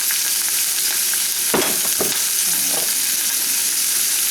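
Peppers frying in olive oil in a pan for a breakfast dish, giving a loud, constant hiss and sizzle with a few soft stirring scrapes, no voices.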